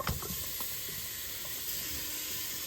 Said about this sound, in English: That's what you want to hear when you drop that goat meat in. You want to hear that shh.